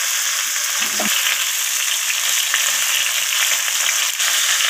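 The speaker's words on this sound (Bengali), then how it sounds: "তো এইরকম অনবরত নাড়াচাড়া করে কপিগুলোকে ভেজে নিতে হবে।" Cauliflower florets fry in hot oil with turmeric in a pan, a steady bright sizzle with a brief scrape of stirring near the start, close and continuous.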